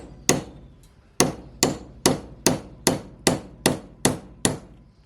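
A hammer strikes repeatedly while punching parts out of a dead leaf vacuum's casing, ten sharp close metallic blows in a fairly steady rhythm with a short ring after each.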